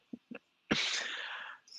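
A single sharp human sneeze, preceded by two quick short intakes of breath, close and fairly loud, followed by a brief trailing breath.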